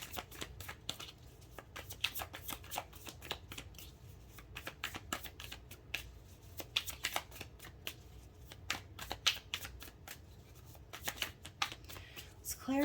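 Tarot cards being shuffled in the hands, a steady run of crisp riffling and slapping bursts lasting several seconds, close and fairly quiet, with a faint voice at the very end.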